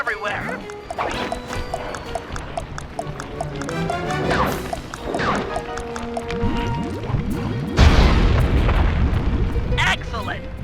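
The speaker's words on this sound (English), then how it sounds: "Place the dynamite when you get near the anchor, or kaboom!" Dynamite blows up a balloon anchor over Venice in Sly 3, a heavy boom erupting late after a stretch of game sounds, with voices talking throughout.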